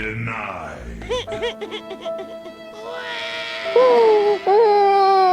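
A cat meows several times in a Japanese house, its calls rising and falling in drawn-out wavering tones, with one louder, sustained meow near the end and some voice-like sounds mixed in.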